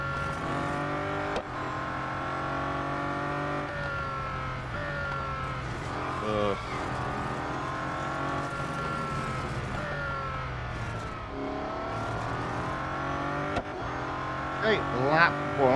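A Bugatti Centodieci race car engine in Real Racing 3 drones and revs with rising and falling harmonic pitch through gear changes, with brief tire squeals near the end, while someone talks over it throughout.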